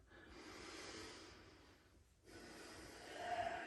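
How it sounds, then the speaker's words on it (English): A man breathes heavily through a meditation stretch, drawing and pushing out air in a couple of close, faint rasping breaths with a snort-like edge. "Breathing as much through it as I can."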